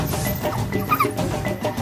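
Several dogs bark and yip in an outdoor scene, sharp yelps standing out over a continuous noisy background with no clear talk.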